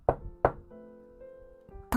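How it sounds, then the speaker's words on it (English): Two sharp knocks on a door sound close and distinct, followed by a faint sustained musical tone from a television playing softly, and a third knock at the end. "There is a knock at the door."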